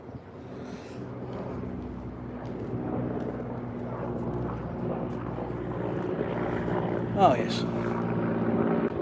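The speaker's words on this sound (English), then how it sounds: "And it's coming right over the house, I think." A helicopter flies over a house, its engine drone and rotor chop building gradually louder, while a person talks over it briefly.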